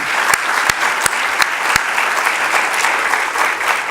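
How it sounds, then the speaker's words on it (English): Audience applauding award winners at a CEO leadership conference, a steady dense wash of many hands clapping throughout, with a few sharper individual claps standing out near the front. "Big round of applause for them."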